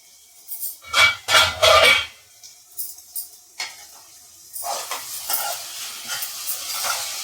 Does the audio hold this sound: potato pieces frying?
yes